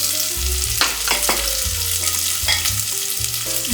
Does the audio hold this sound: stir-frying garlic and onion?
yes